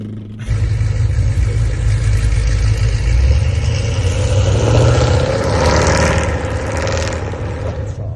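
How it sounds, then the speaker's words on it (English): A 2007 Dodge Charger SRT8 with a Corsa intake and aftermarket exhaust revs up, a loud, deep engine roar that climbs and swells for several seconds, heard close and with no talk over it. "You gotta rev it up and shit too."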